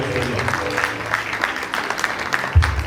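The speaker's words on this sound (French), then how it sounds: "Acclamons très fort pour la gloire de notre Seigneur." A church congregation at a wedding ceremony claps together in a moderately sized room, a steady patter of many hands with a few voices mixed in, ending with a low thump.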